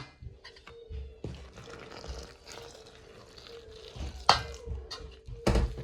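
Water is poured little by little into kozhukattai dough, giving a faint, quiet trickle and splash with a few soft clinks and bumps over a low steady hum, and no one speaks.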